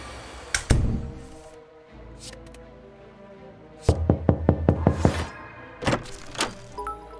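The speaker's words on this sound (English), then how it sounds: "I forgot to knock." Knocking on a door in a video game: a few scattered heavy thuds, then a rapid run of about eight sharp knocks, followed by several more loud knocks, with no talking.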